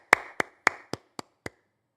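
A preacher claps his hands during a Sunday church sermon, six sharp, close claps in a slowing, evenly spaced run, the first three loudest and the rest fading slightly, then silence.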